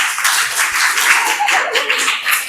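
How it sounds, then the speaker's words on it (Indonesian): Students in a classroom applaud a group presentation, giving a short, steady burst of dense clapping from many hands. "Beri aplaus, Rek. Beri aplaus."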